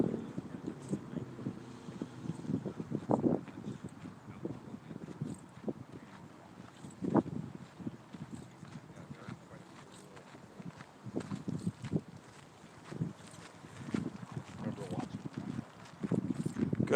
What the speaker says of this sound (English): Gotta be careful with this wind